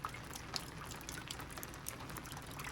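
Rainwater running off a camper canopy into a collection container, a faint steady pour and patter with scattered drips, quiet and continuous throughout.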